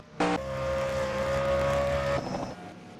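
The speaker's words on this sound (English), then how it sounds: "Here comes the cars to pit in now." Race cars in a racing video game roll into the pits at Paris, a loud sustained engine tone that starts abruptly, holds steady, then cuts off into a lower rumble.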